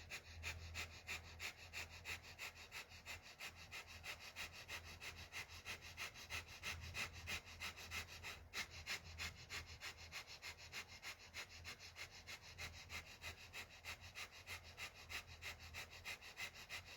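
Steady breathing through a yoga practice, with repeated sniffing inhalations and soft exhalations continuing evenly and close by for the whole stretch, no talking.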